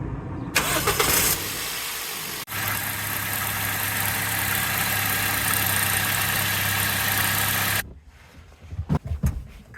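A Toyota Yaris engine cranks briefly and catches after an accessory belt replacement, then settles into a steady, close idle for several seconds before cutting off, followed by a few clunks.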